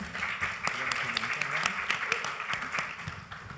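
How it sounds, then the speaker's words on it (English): An audience claps steadily at an artists' talk, a dense patter of hands at moderate loudness that carries on for a few seconds. "I thought my comment was clapping"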